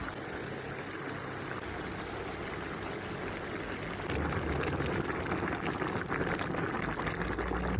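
Veal plov zirvak of fried onion, carrot, salt and cumin simmering in a covered pot, a steady soft bubbling hiss that stays even throughout and grows slightly fuller and louder partway through.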